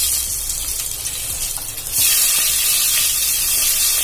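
Chopped onions hit hot oil in a pan, the low steady crackle jumping into a loud, bright sizzle that continues evenly.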